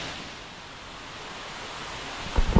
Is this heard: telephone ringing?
no